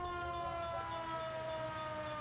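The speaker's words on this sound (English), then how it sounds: "We'll keep the siren on" A police car siren sounds continuously in the video game L.A. Noire, loud and close over a low engine drone, with no talking.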